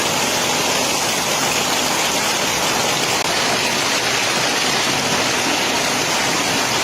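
Steady rain pours down, a dense, even hiss of drops on surfaces continuing without pause from start to finish.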